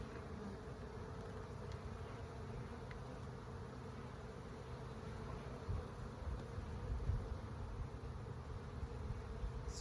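Honey bees buzz steadily in a hive, a soft continuous hum that stays low and even throughout.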